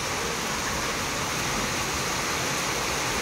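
Heavy monsoon rain pours down in a dense, steady roar that fills the whole clip, loud and close, with no break or speech.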